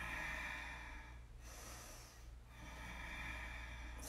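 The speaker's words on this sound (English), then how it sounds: "Breathe." Slow breathing during a seated side-stretch yoga session: a long steady breath, a brief pause, then another drawn-out breath, close and fairly quiet over a faint background hum.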